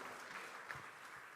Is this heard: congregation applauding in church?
yes